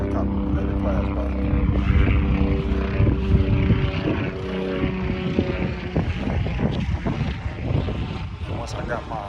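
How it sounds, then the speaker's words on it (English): A low engine drone with thudding rotor beats passes steadily overhead, loud and continuous, with some talking underneath. "There's a helicopter that flies by."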